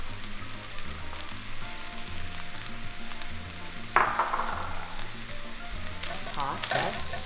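Shrimp and peas sizzle steadily in a pan of fried rice, with a brighter burst of frying and clattering as the food is tossed partway through; no one speaks.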